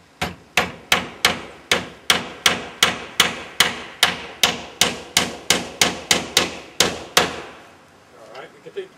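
A hammer drives nails into a roof being built, about twenty loud, close, evenly spaced strikes in a steady rhythm that stop near the end, followed by faint handling noise.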